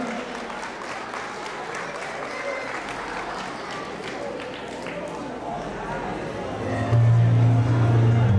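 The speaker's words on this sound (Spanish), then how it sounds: "Le damos un fuerte aplauso a Fernanda." Sustained applause from a crowd at a quinceañera party in Los Ocotes, Pénjamo, Guanajuato, Mexico, steady and dense throughout, with a low hum and a louder burst of sound joining near the end.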